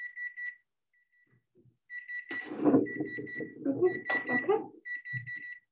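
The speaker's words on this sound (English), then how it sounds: "There goes our timer again" A kitchen egg timer beeps in steady, evenly spaced high tones, pausing while a person says a word and while dishes and utensils clatter nearby, then resuming.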